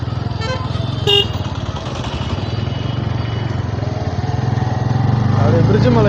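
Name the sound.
Bajaj N160 motorcycle riding on road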